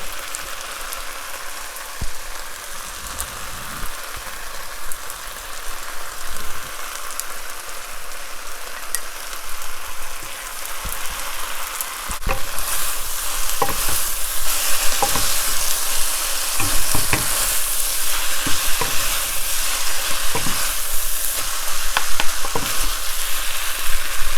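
Kimchi fried noodles stir-fried in a wok sizzle loudly and steadily, with scraping stirs and tossing clatters that grow busier and denser in the second half, and no one speaking.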